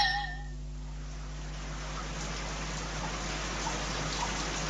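Steady rain falls on wet cobblestones in a street, a continuous soft hiss of drops with a few faint patters, moderately close and unbroken throughout.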